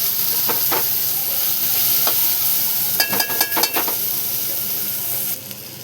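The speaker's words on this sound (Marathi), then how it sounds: "हे पण बटाटे त्यामध्ये टाकून पुन्हा एकदा सगळं मिक्स करून घेऊ" Potatoes stirred into a sizzling prawn biryani masala in a pan, a loud steady frying hiss with a cluster of quick scraping stirs midway.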